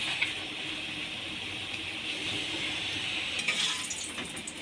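Potato pieces fry in a pan with a little turmeric, producing a soft, continuous sizzle and faint spatula scrapes, fairly quiet and even throughout.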